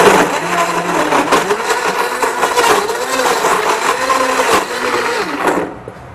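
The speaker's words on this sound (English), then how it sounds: "I put everything in a blender." A blender whirs loudly and steadily as it blends raw vegan chocolate dessert ingredients made with whole fruit, then winds down at the end.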